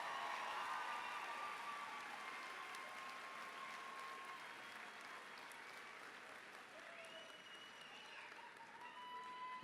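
A graduation ceremony crowd at Virginia Union University gives a long, continuous round of applause for the graduates, faint and distant, with scattered whoops rising over the steady clapping.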